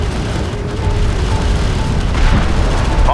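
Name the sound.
explosion of hostile strike craft shot down, Homeworld: Deserts of Kharak video game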